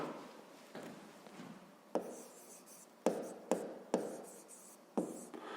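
Pen or pencil writes a fifth-grade math exercise by hand on paper, quiet scratchy strokes with soft taps as the writing tool lands, close and alone.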